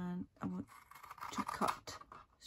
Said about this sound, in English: I want to cut straight up that score line there